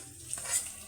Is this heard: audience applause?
no